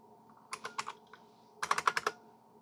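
Keys clatter on a computer keyboard in two short bursts of quick, crisp strokes, about five taps each, separated by a brief pause, close and fairly quiet.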